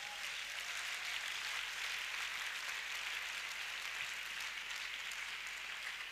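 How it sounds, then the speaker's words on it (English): A church congregation claps together in sustained, dense applause throughout, steady and loud with no pauses and no speech on top. "give God a mighty clap offering this morning."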